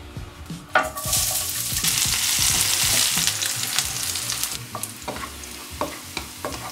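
Onions caramelizing in a frying pan, a steady close sizzle with frequent stirring scrapes and clinks of a utensil against the pan, a few sharper taps near the end, no voices.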